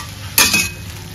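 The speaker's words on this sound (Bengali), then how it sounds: "আর এখানে তো আমার ফুলকপি ভাজা হচ্ছে ফ্রেন্ডস" Cauliflower frying in a pan, a low steady sizzle broken by one brief louder stir or scrape, close and without voices.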